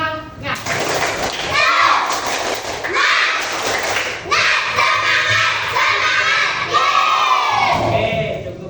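A class of children loudly shouts a clapping chant, tepuk semangat, with rhythmic claps and thumps under energetic group voices, close and continuous throughout.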